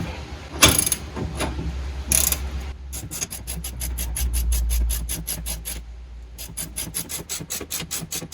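A ratchet tightens the front suspension spring on a 1975 Triumph TR6. Two sharp knocks come first, then long runs of rapid, even clicking, broken by a short pause, close by and fairly loud.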